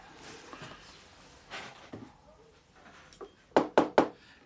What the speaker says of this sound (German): Das Klopfen muss man machen, dass die Haare sich aufstellen, dass die Wiesen sich aufstellt.